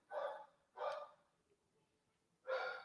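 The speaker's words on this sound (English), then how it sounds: "You probably hear my dogs barking in the background right now" Dogs bark in the background, three short separate woofs, two close together and then one after a pause, fairly faint and alone against a quiet room.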